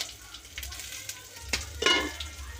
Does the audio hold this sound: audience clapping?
no